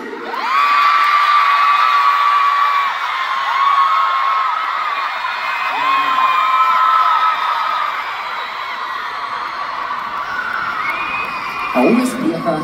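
A large concert audience at Oakland Arena screams and cheers loudly and continuously, with high whoops and shrieks layered over a steady roar of the crowd.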